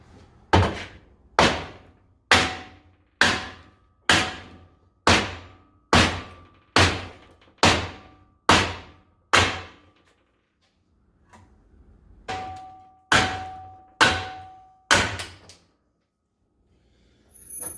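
A big hammer strikes a control arm from a 1967 Camaro held in a vise to drive out a bushing, about fourteen loud ringing metallic blows in a steady rhythm with a short pause before the last few.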